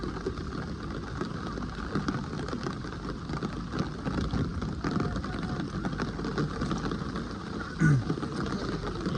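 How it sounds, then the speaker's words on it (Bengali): Heavy rain pours down at a fishing station in Faridpur, making a steady, dense broadband hiss for the whole stretch with no let-up, plus one brief low thump near the end. "এত পরিমাণ আসলে বৃষ্টি নামছে"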